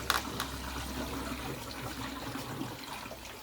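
Water trickling and dripping from new pipework in a DIY garden pond, a faint, continuous light splashing with a few soft drips, close by and without talk.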